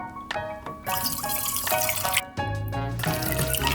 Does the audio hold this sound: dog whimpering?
no